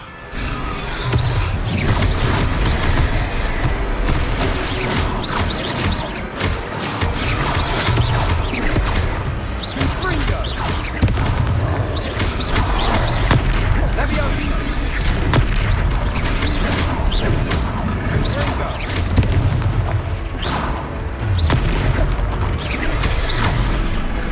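Repeated blast-spell explosions in the Hogwarts Legacy video game, a dense, continuous barrage of booming impacts and crashes at steady high loudness through the whole stretch, alongside other spell sounds.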